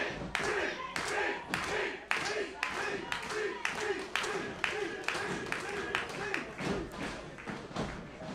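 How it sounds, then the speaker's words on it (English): Wrestling crowd at a six-man tag team match, rhythmic unison clapping building steadily with thumps from the ring, mixed with crowd noise and commentary throughout. "Now the crowd starting to get behind Mike Z."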